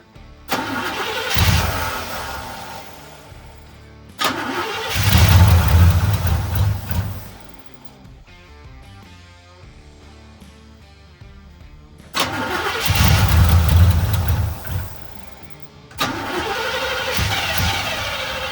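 An old Chevy car engine cranks, catches and runs in several attempts, each loud start-up settling into a rough idle before cutting out, with quieter gaps between tries and no talk.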